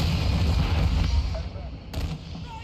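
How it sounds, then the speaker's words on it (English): A hostile cruise missile strike explodes in a Call of Duty multiplayer match as a deep rolling rumble that fades, with battle noise and game voices around it. "Hostile cruise missile incoming."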